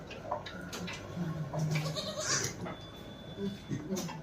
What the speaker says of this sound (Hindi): ये बकरी अपनी